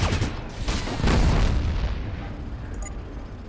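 A missile explosion in the video game Fallout Tactics lands as a loud, close boom that swells into a long rumbling roar and slowly fades, with no talking over it.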